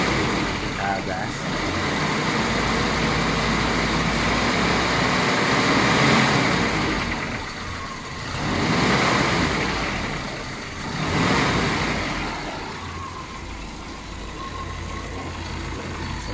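A Toyota Kijang engine runs steadily during radiator flushing, a loud continuous rumble with a few slow swells as the throttle is raised and eased off.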